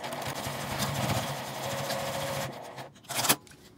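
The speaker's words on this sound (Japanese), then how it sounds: "で端ミシンをかけます。" A sewing machine runs at a steady hum while stitching along the edge of a strap for a child's backpack, then stops, and a short rustle of fabric handling follows.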